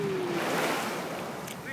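Continuous rushing Atlantic Ocean surf and wind noise, loud and close, with a brief high whistle-like tone at the start.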